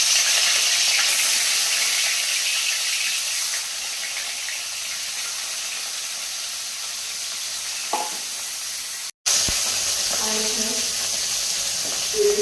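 Fish frying in hot oil in a wok, a steady loud sizzle that slowly eases, broken by a brief cut and a few clatters near the end.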